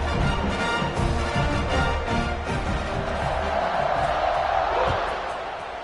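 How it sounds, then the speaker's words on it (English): A college football stadium crowd at a Florida State versus Louisville game gives off a loud, continuous roar and buzz that fills the whole stretch, holding steady before easing slightly at the end. "this crowd is buzzing after that last score."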